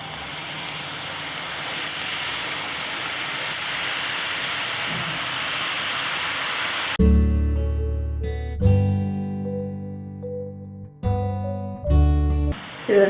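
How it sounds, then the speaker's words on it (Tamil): Omapodi dough is pressed into hot oil and fries with a steady, even hiss for several seconds, then cuts off as music with sustained tones takes over. "இப்போ இதுலேயே வந்து நம்ம ஓமப்பொடியை புழிஞ்சு விட்டுடலாம்."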